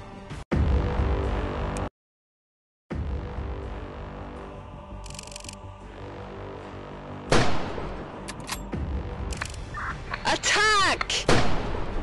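Sniper rifle shots ring out in an Android sniper game, sharp booming reports with echoing tails, one followed by a brief cut to silence, then further shots and clattering effects later on.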